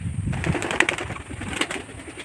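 Old-line Madras pigeons coo close by, low soft throaty calls repeating over a brief stretch, with a few faint rustles.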